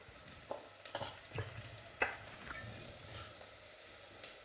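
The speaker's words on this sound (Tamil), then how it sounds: "இப்போ இது நல்லாவே வதங்கி வந்துட்டது பாருங்க" Onions sauté in a pan for a spicy Sri Lankan drumstick curry, a soft steady sizzle broken by several sharp scraping stirs, close and fairly quiet with no talk.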